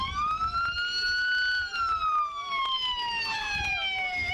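A police siren wails in a long, slowly falling sweep, loud and close, with faint background rumble.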